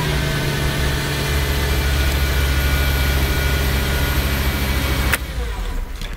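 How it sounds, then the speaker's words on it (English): A car engine runs at a steady idle during a battery and charging check with a diagnostic scan tool, a continuous low hum that holds level and then shifts abruptly near the end. "So you want me to start the engine?"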